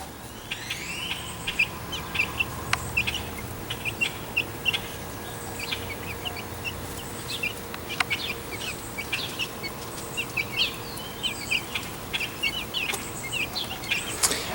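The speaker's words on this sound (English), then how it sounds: "These are 6 weeks old chickens." Six-week-old hen chicks of five breeds peep and cheep in a makeshift pen in Dallas, Texas. Their chirps are soft and scattered over steady background hiss.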